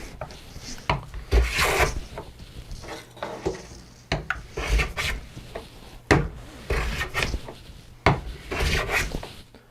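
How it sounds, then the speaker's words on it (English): A hand plane shaves a wooden guitar bridge blank down to thickness, making repeated rasping strokes about every second or two with short pauses between them, close and fairly loud. "So I need to thickness this a little bit. I can do that with a plane."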